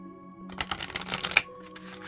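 Oracle cards being shuffled by hand, a quick rustling flurry of card edges riffling together for about a second, close and fairly quiet over a faint steady hum.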